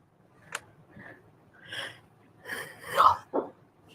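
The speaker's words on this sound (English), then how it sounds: "Sorry if you hear sneezing and stuff in the background" Sneezing in the background of a home live stream, caused by a child's allergies: a few short, sharp bursts scattered across the clip, with faint breathy sounds and snorts in between.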